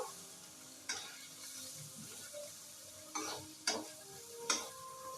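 Eggs sizzle in a frying pan, with steady frying crackle underneath and several sharp stirring scrapes of a spatula against the pan at irregular intervals, close and moderately loud.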